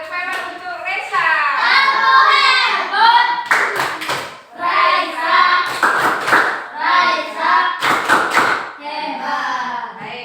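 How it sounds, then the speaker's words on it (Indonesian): Schoolchildren in a classroom clap together in bursts of loud, rhythmic applause, with children's voices and chatter running between and over the claps. "Tepuk tangan untuk Reza."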